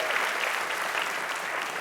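Steady applause from an audience at a Broadway opening night of Othello, a continuous wash of clapping with no breaks and no voices over it.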